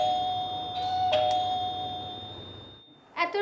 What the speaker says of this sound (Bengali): কলিং বেল বাজছে।